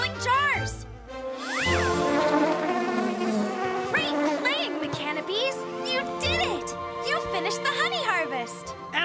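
High, wavering buzzing of cartoonish mechanical bees swooping up and down in pitch, mixed with lively voices and music throughout.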